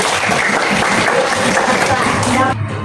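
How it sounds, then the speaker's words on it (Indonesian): An audience at an Islamic religious education lesson applauds steadily and densely for nearly three seconds, with voices mixed in. The clapping cuts off abruptly near the end. "Tepuk tangan dong"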